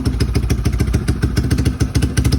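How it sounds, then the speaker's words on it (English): An ATV fitted with a Cobra exhaust idles close by, its engine thumping out a rapid, steady, throaty pulse with a metallic clatter on top and no one talking over it. "suppose you guys can hear that exhaust. Cobra exhaust."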